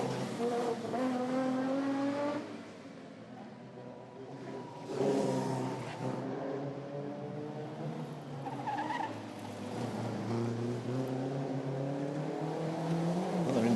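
Historic race cars pass at the Angoulême circuit, their engines rising and falling in pitch as several cars sweep by close and loud in succession, with no voices.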